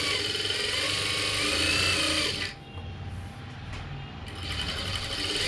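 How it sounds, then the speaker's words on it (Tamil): An electric sewing machine stitches lining on an umbrella frock with a fast, steady whirr, pauses briefly, then starts up again close by. "இப்போ மேல் பக்கத்தில் அப்படியே ஒரு தையல் போட்டுறீங்க"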